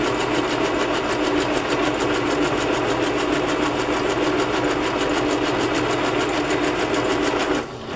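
A sewing machine runs a steady standard stitch through fraying burlap, its fast even whirring close and continuous before it stops right at the end.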